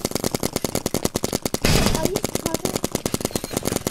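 Rapid automatic rifle fire in a paintball shooting game, a dense, fast, evenly spaced burst of loud shots lasting throughout, with a brief louder blast partway through.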